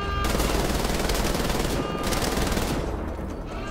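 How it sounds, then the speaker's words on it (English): A machine gun in the PC game Wolfenstein: The Old Blood fires as a dense, loud, continuous rattle for several seconds, with a brief dip partway through and no talking. "I have a little bit machine gun over here."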